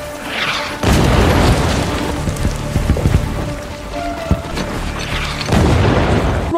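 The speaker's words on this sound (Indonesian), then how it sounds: "Serangan artileri kembali ditembakkan musuh." Enemy artillery explosions in a television war scene: deep booming blasts roll in repeatedly, loud and heavy, with a dense rumbling wash between impacts and a sharp crack partway through.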